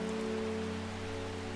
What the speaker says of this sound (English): Oh, when we have rain